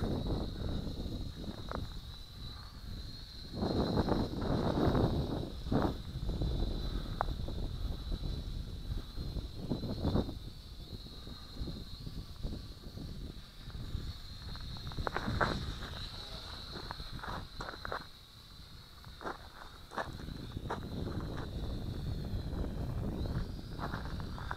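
Blustery outdoor wind buffets the microphone in uneven gusts, with a thin steady high whine from a small Syma X5C or WLToys V222 quadcopter drone hovering nearby.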